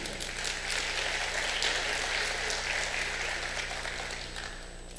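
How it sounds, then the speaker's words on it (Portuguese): A congregation at a church Sunday school meeting gives a steady round of applause. The dense clapping sounds faint and distant and fades slightly toward the end. "Isso, uma salva de palmas aí."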